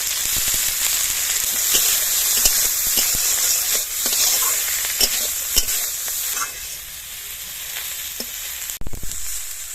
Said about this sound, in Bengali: এবার টমেটোগুলো আলাদা করে ভেজে নেব। টমেটোর সাথে আমি এখানে কোরানো নারকেল নিয়েছি, এটা টমেটোর সাথে ভেজে নেব।